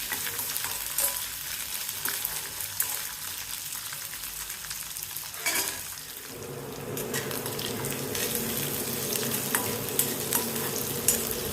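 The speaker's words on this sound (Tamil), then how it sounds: "பத்து 12 சின்ன வெங்காயம் ரொம்ப பொடிசாக வெட்டாமல் கொஞ்சம் பெருசாகவே வெட்டி சேர்த்து வதக்கிறேன்" Small onions, cut into fairly large pieces, sauté in a pan with a constant close sizzle and occasional stirring scrapes; midway the frying grows fuller and louder and stays steady to the end.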